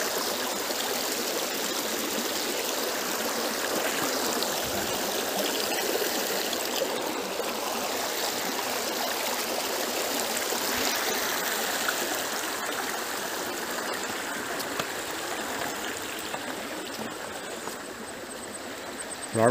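Clear river water flowing over pebbles and stones on a jungle trail, a steady, close, full babbling rush that continues unbroken throughout with no talking.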